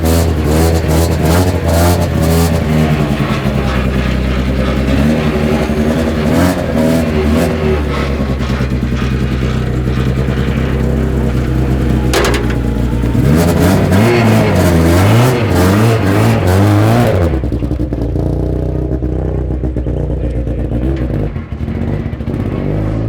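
Rally car engine revving hard and pulling away at a training event, loud and close with sustained throaty acceleration, then fading as the car drives off toward the end.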